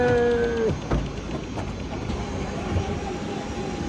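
Passenger airplane cabin during takeoff for a flight to Agadir, Morocco. A steady, loud engine roar and rumble fills the clip, with a falling tone and a thump early on and no talking.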